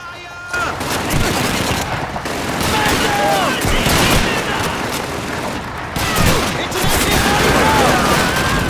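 Gunfire in the World War II shooter Call of Duty 2, with bolt-action rifles among the weapons. Rapid bursts and single shots crackle almost continuously alongside shouted game voices, with brief pauses between volleys.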